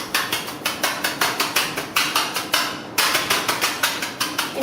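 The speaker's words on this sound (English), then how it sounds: "we want to take our sugar and just use a scraper and slowly break it out" A scraper breaks up coloured sugar for sanding sugar, heard as a close run of sharp, regular scraping and cracking strokes, about three per second, with brief pauses between bursts.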